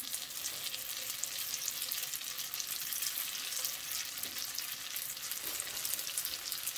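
Banana and chocolate brick pastries fry in a pan with a steady, even, fine hiss that runs unbroken throughout, quiet and close with no talk.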